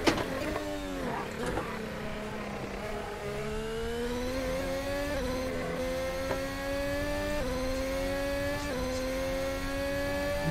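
Formula 1 car engine in the racing game Assetto Corsa at Cadwell Park, a loud, close, high-pitched whine that rises and falls repeatedly as the throttle is modulated, with brief shift-like steps in pitch.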